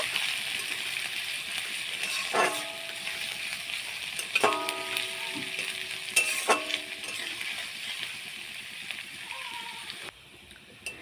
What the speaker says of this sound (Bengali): পেঁয়াজটাকেও লাল লাল করে ভেজে নেব